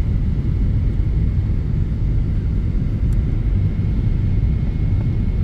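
Cabin rumble of an airplane descending to land at Jeddah airport, a loud, steady low engine and airflow drone with no talk.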